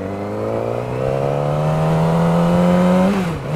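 A 600cc sportbike engine revs up under a twisting throttle, its pitch climbing steadily and loudly for about three seconds before dropping off sharply at the end.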